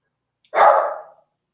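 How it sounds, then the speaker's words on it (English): A single loud dog bark, short and close, alone against silence. "just let that barking, because there's always something"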